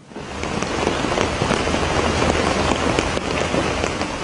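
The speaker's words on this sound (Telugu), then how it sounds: "ఓవైపు భారీ వర్షం," Heavy rain in Delhi pours down in a loud, dense, steady patter on surfaces, continuous and close throughout with no voices.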